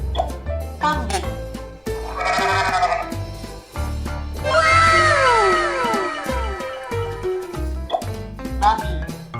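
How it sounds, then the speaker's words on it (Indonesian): Goat bleating in a children's animal-sounds sequence, several wavering cries, near and fairly loud, mixed with other background noises and voices. "Kambing."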